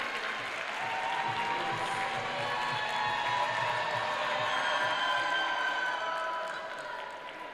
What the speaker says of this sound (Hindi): बच्चों जोरदार तालियों से स्वागत कीजिए सर का।